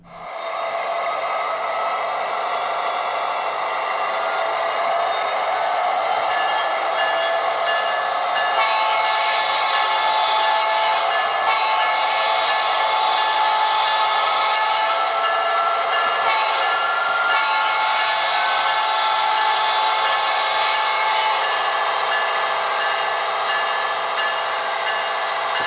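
Model train locomotive motor and ESU LokSound Select decoder sound running on a test stand for an Athearn Genesis SD70ACe, a steady diesel engine drone with a brighter layer switching on and off midway, continuous and close with no talk.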